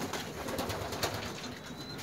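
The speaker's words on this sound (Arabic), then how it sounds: "الحمام كيتنقى الحمام ملي كيعوم كيعود نقي" Pigeons bathing in water, with soft cooing and fluttering, splashing wings against a steady wash of noise, close and continuous for a couple of seconds.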